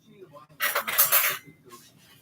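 Fork mixing food in a dish, a brief close burst of clattering metal scraping against the dish lasting about a second, surrounded by quiet.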